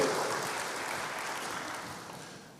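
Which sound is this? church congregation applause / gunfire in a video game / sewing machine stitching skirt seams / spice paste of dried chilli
church congregation applause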